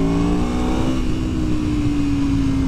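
Yamaha MT-10 motorcycle engine revving steadily nearby, a continuous throaty drone whose pitch slides gently downward, loud and alone without voices.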